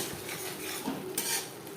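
Ground cumin, coriander and turmeric are stirred in a pan for a fish curry, giving close metallic scrapes and clinks of a spoon against the pan over a soft background hiss.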